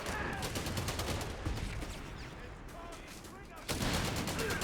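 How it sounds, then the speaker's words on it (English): Gunfire aimed at grenadiers in Company of Heroes 3, heard as continuous rattling bursts of shots under game voice lines. The firing eases in the middle and then swells loud again near the end. "Grenadiers are under fire!"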